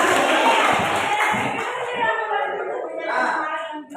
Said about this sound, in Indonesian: Oke, tepuk tangan untuk kalian semuanya.